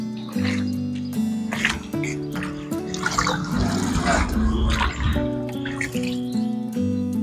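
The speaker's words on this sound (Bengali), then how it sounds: "এখন ধনেপাতাগুলো আমি ধুয়ে নেব, 5-6 বার জল পাল্টিয়ে পাল্টিয়ে ধুয়ে নেব" Fresh coriander leaves being rinsed in a bowl of water, with sloshing and splashing that swells in the middle, partly masked by steady background music.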